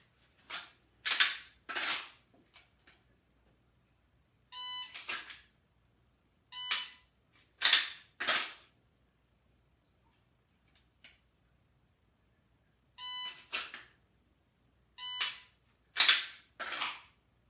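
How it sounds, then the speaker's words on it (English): A shot clock timer is used during dry fire pistol practice at home: short beep tones followed by several sharp, loud clicks and snaps in pairs and small clusters, separated by silent gaps. "that's with the shot clock timer"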